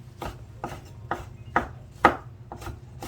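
Chili pepper minced with a knife on a cutting board, six evenly spaced, solid chops close and clear with nothing else heard.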